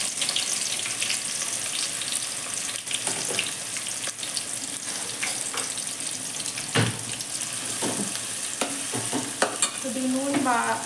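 Spices and green chilies tempering in hot oil in a pan on a stove, a steady crackling sizzle with stirring clicks and scrapes throughout, fairly close and without talk.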